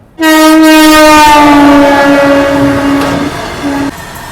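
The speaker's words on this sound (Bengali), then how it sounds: "শহরে ট্রেন প্রবেশ করে গেছে আমরা ঢুকছি নিউ জলপাইগুড়ি" A loud, sustained horn from the Sealdah–Jalpaiguri Humsafar passenger train blares close by for several seconds entering New Jalpaiguri, fading slightly toward the end, then ends with a short final blast.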